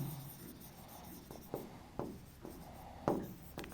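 Chalk or marker strokes on a classroom board during an abstract algebra lesson on multiplication modulo, a run of short scratchy taps and swipes, several distinct strokes with brief pauses, close and alone without talk.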